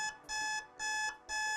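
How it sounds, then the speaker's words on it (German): A Doro 8050 Plus senior mobile phone sounds its emergency alarm after the SOS button is held, three sharp electronic beeping bursts in an even on-off rhythm, clear and close with no voices. "Und dann geht der Alarm los, den kann ich noch abbrechen."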